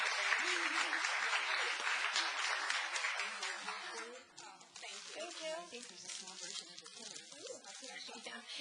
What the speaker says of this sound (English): Applause for the ladies.